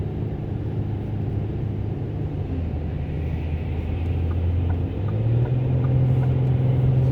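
Steady cabin rumble inside a 2008 Ford Taurus SEL cruising on a downtown highway, a low continuous drone of engine and road noise that swells slightly in the last couple of seconds.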